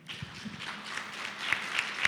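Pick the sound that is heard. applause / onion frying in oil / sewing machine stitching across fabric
applause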